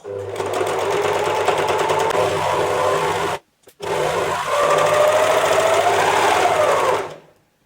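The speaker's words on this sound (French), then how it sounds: "Je couds l'intérieur de la jambe du short, d'un côté de short." An overlock sewing machine stitches the inside leg seam of a pair of shorts, a close, loud, fast whirring run that stops briefly partway, then resumes and winds down near the end.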